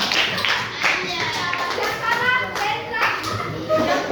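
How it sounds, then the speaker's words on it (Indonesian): Seventh-grade students in a junior high classroom clapping for quiz winners, a lively burst of many small hands with children's voices chattering over it. "Tepuk tangan dulu dong untuk mereka."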